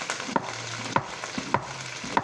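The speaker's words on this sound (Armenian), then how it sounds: "մեր կարտոֆիլը տապակվում է, թողում ենք կարտոֆիլը միջև տապակվի" Potatoes fry in a pan for ojakhuri, with a steady sizzle and a sharp stirring scrape about every half second, four in all.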